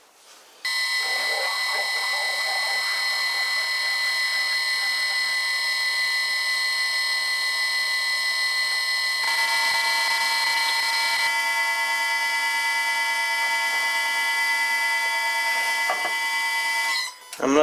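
An 11.5mm drill bit bores into a workpiece spinning on a lathe, giving off a steady, loud, high-pitched squealing whine that holds for about sixteen seconds with slight shifts in pitch midway before cutting off.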